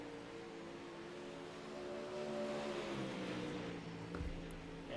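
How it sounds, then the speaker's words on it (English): Race cars run on a track at a moderate distance, their engine drone rising and falling steadily in pitch as they pass, a continuous blended roar with no voices. "but now we have cars on track."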